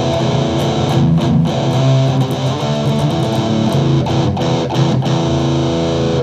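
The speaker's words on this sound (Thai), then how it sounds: "อันนี้คือเสียงเอฟเฟกต์ในเครื่องผมใช้เอฟเฟกต์ในเครื่องนี่แหละ" Electric guitar running through the built-in effects of a Boss GX-100, a dense, loud, continuous wash of processed chords and notes with light distortion, no voices.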